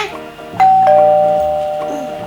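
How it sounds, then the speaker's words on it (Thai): A toy Barbie house doorbell is pressed, giving a loud, clear electronic chime that rings out and slowly fades, heard alone after a moment of quiet. "เธอกดกริ่งสิ"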